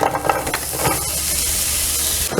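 Onion hitting a hot pan, a soft steady hiss and sizzle with faint clatter early on, moderately quiet and continuous throughout.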